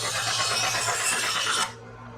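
A knife blade drawn slowly across a knife sharpener gives a close, continuous bright rasping scrape that stops abruptly near the end, leaving a quieter background.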